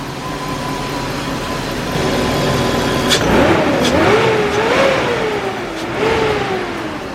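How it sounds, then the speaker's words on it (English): BMW E34 540i V8 engine idling then revved several times, steady rumble rising into sweeping throttle blips, close and loud with no talk. "the car is running solid now"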